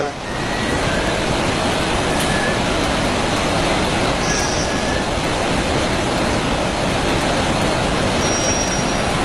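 A steady, loud rumbling roar of a passing train near Dudhsagar Falls, Goa, fills the whole stretch, broad and continuous without letting up.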